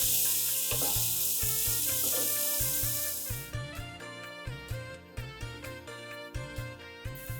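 Onions sizzle and fry in a pan for Kerala kadala curry, a bright hiss that is strongest at first and then sinks beneath loud, rhythmic background music.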